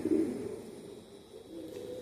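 A Cuban Thief Pouter pigeon cock, a second-generation primogenito cross, calls to a hen from a corner with a low, continuous cooing that swells at the start and carries on steadily, close by and alone without talk.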